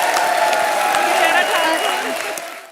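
Studio audience at a Hindi television comedy show bursts into sustained, dense applause after a punchline, loud and steady, with a few voices mixed in, tapering off at the very end.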